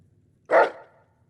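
A dog in the video game Fallout New Vegas gives a single sharp, loud bark close by, with a brief tail fading out against near silence.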